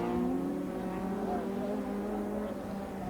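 A full rally car laps the Mondello Park rallycross circuit in 1989, its engine revving in a steady, moderately distant drone with shifting pitch, heard alone.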